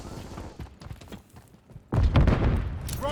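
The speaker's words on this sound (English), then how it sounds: "Throwing stun grenade." A stun grenade going off in the video game Call of Duty Modern Warfare 3, a sudden loud bang and rumble after scattered nearby gunfire and thuds, with faint voices in the background.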